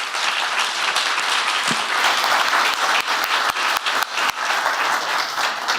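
Sustained applause rolls through a conference audience after a panel, many hands clapping at once with a few sharper, closer claps standing out from the crowd.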